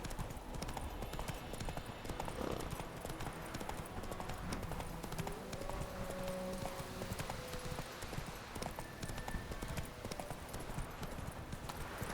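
Hooves clip-clop in a steady galloping rhythm as a horse runs in The Witcher 3 video game, loud and continuous, with an occasional whinny and a voice briefly urging it on.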